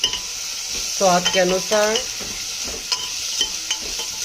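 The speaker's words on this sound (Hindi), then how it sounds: "इस तरीके से चम्मच घुमाते रहेंगे।" A spoon stirs cluster beans and apple gourd in a pan, making steady scraping and soft sizzling close up while someone speaks briefly over it.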